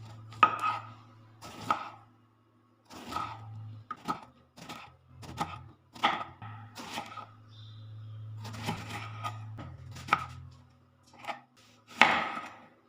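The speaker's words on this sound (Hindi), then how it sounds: "यहाँ पे देखें इस तरह करके सारे बैंगन काट लेने हैं" A knife chops brinjals on a cutting board in irregular firm thunks, each cut a crisp knock separated by short pauses, close and alone over a faint low hum.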